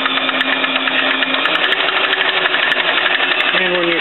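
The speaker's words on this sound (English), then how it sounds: "So this is a newer lathe than the one out there" A newer lathe motor powered from a wind power supply runs with a steady mechanical whir and hum, its pitch shifting slightly near the end, heard up close.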